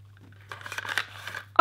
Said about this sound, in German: Ich muss das mal auspacken.